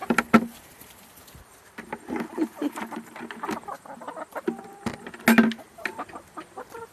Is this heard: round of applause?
no